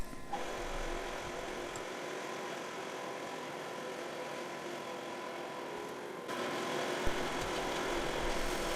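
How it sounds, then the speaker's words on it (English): A machine drills a series of three holes through the edge of a metal plate, producing a steady, continuous mechanical whir and hum that shifts slightly in tone near the end. "a series of 3 holes are drilled into the edge of the plate"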